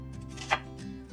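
A single knife stroke slices through an onion on a cutting board, a brief crisp cut standing out over quiet background music.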